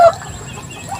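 Backyard chickens cluck nearby in a short burst, one sharp call at the start followed by softer low clucking, with no talk over it.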